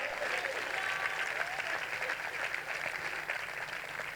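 A church congregation claps in sustained, even applause that fills the whole stretch at moderate loudness, with a few voices mixed in beneath it.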